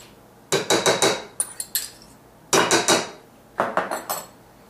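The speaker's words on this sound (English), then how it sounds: "now we're going to mix our recipe together, all of our ingredients" A utensil clinks and scrapes against a bowl while protein pancake batter of mashed banana and whey protein is mixed, in three bursts of rapid rhythmic knocks separated by short pauses, close and fairly loud with no talk.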